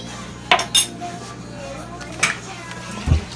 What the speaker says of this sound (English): Now we're going to add our jerk sauce. I'm going to start off with just 1 spoon.